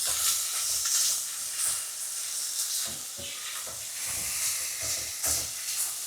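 Carrot strips frying in a single pan for funchoza, a steady close hiss and sizzle with faint stirring clinks throughout, no voices.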